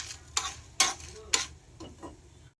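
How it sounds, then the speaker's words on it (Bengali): Dry red chillies, cardamom pods and cinnamon pieces are stirred in a dry pan, giving a few sharp scraping rattles spaced about half a second apart, close and fairly quiet. "4টে শুকনো লঙ্কা, 4টে এলাচ আর 3 টুকরো দারচিনি। এগুলোকে আমি শুকনো খোলায় প্রায় 1 মিনিট নাড়াচাড়া করে গুঁড়ো করে নেব।"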